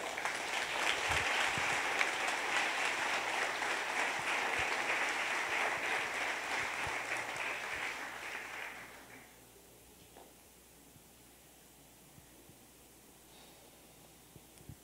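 Church congregation applause during a Sunday service, a dense wash of clapping for about nine seconds that then drops away to quiet room noise.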